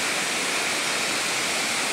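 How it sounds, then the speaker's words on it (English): Torc Waterfall in Killarney National Park, a roughly 100-foot cascade, roars as a dense, steady rush of falling water, close and continuous with no voices. "Welcome to Torcy Waterfall in Killarney National Park"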